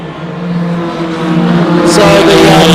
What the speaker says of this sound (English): It's contact, and a bright green car it is, who's been spun by some of the other cars involved